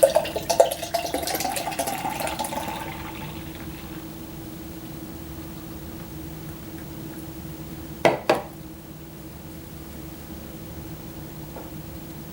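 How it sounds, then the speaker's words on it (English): Boddingtons Pub Ale pours into a glass with a fizzy rush that fades out, followed by a brief clink of glass and quiet settling. "All right, let's pour it off in a glass,"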